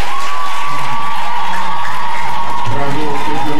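Children cheer and applaud at a Christmas Eve celebration, a steady crowd wash of clapping and shouts lasting throughout, with a sustained tone and some voices mixed in.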